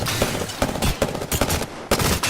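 Rapid bursts of automatic gunfire from an enemy squad in the battle royale game Apex Legends, loud and dense, with repeated sharp volleys packed close together and barely a pause between them.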